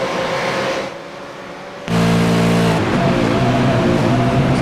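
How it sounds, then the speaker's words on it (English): A sim racing car at Hockenheimring drops down through the gears, its engine note stepping lower with each shift after a brief lull, loud and close with a sustained droning tone. "So down the gears he goes"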